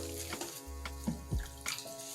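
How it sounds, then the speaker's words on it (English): Hands dip into a bowl of water while shaping meatloaf, making brief, soft splashes and swishes close up against a faint hum. "So what I do is put my hands in water"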